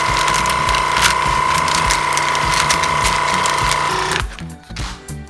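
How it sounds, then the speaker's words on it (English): A vacuum sealer draws air from a picanha meat package with a loud, steady motor whine and tonal hum lasting about four seconds, then it cuts off abruptly into a few softer clicks. "I'm gonna just vacuum seal this guy."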